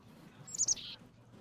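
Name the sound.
bird chirping in the video game Reverse: 1999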